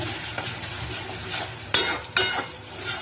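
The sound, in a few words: stirring and frying masala with tomatoes for tel koi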